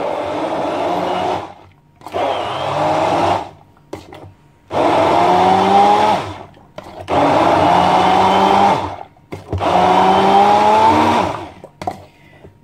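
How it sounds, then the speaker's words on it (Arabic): A blender whirs through mango with water, sugar and cheese in five loud bursts of a couple of seconds each, separated by brief pauses, the motor pitch shifting as it runs, close and without talk. "دابا غادي نباطي المانغا، راني زدتلو شويه د الماء البنات"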